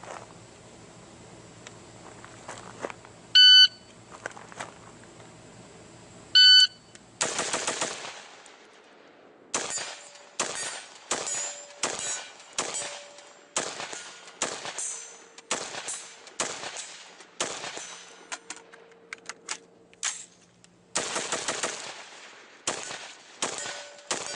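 An XM15 rifle fires in a timed shooting drill at 50- and 100-yard targets. Two sharp timer beeps come first, then a long run of loud single shots in steady bursts with a short pause for a magazine change.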